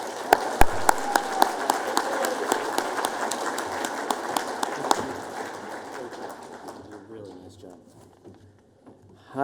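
Audience applause at a charity celebration gala, a dense burst of clapping with sharp individual claps that gradually thins and fades over several seconds.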